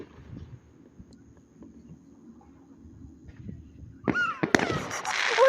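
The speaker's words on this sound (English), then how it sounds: "We're watching the fireworks." Fireworks watched outdoors go off after a quiet stretch with low background rumble, ending in a burst of loud, crackling explosions that fill the last second and a half.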